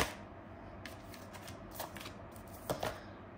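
Tarot cards shuffled by hand during a reading, a soft continuous papery riffle with a few sharper flicks and taps toward the end, faint and close, with no voices.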